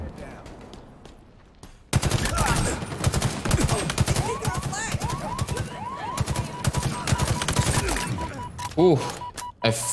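Rapid bursts of automatic gunfire and weapon shots crackle continuously through a Halo Infinite ranked Onyx match, loud and dense after a quieter opening, with a player's voice running under the combat.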